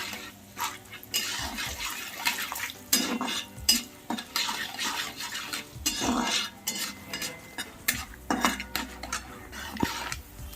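Fried urad dal and cashews stirred into a pan, with busy scraping, clinking and rattling of a utensil against metal in irregular close bursts and no talk.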